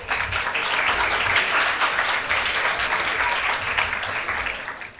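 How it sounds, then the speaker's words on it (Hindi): An audience applauds the chief guest at a school assembly in Karachi, giving sustained, dense clapping that holds steady for about five seconds before tapering off. "भरपूर तालियां आप लोगों की हमारे चीफ गेस्ट के लिए।"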